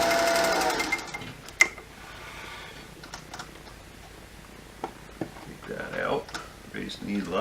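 A tension-adjusting sewing machine stitching red thread on top and green thread below: a quiet, rapid mechanical ticking and whirring runs in short bursts, with someone talking near the start.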